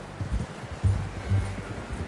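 Hooves of a horse in the Western game Red Dead Redemption 2 thud and clop in a soft, uneven rhythm, a few louder steps standing out against low rustling.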